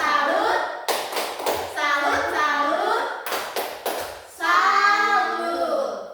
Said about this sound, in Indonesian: Tepuk salut dulu buat kita semua.